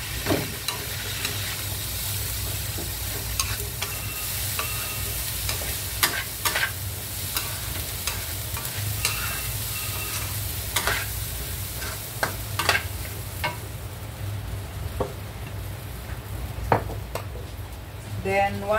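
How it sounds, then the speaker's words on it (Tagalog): Washed rice stirred in a hot pan, a constant frying sizzle with repeated scraping and clinking of a spatula against the metal, fairly close. "Then ilagay natin yung 4 cups rice, washed rice. Ating halu-haluin."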